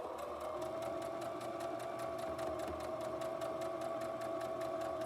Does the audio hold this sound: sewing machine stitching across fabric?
yes